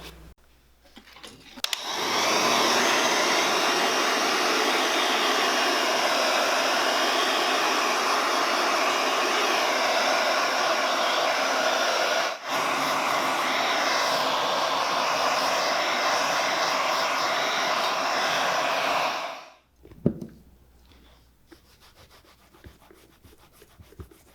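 A heat gun warming the leather of 30-year-old hiking boots blows a loud, steady, close roar for about eighteen seconds, then cuts off abruptly, leaving faint handling noise.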